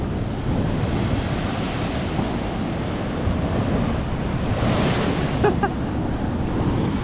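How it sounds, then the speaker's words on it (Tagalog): Ocean waves surge against a seaside boulevard, a broad continuous roar of surf with steady wind buffeting the microphone and a brief rougher splash near the end. "Talagang siguro yung lahat ng alon ay pupunta talaga dito."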